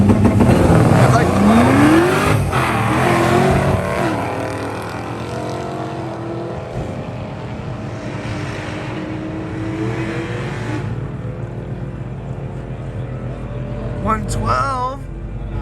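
A drag race car on a new Vortech setup makes a pass at PIR. The engine roars loud and close at launch, then pulls away and fades into a distant drone while voices talk over it.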